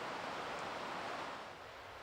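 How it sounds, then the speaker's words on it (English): A slow-moving river in a winter forest at Glen Orchy gives off a low, steady white-noise wash, soft and continuous, easing slightly toward the end. "the low white noise of a slow-moving river"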